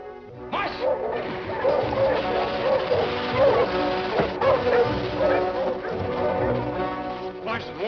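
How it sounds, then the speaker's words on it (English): Sled dogs barking and whimpering close up, a busy overlapping chorus of yips and whines that carries on without a break, with a voice briefly mixed in. "help me harness my dogs"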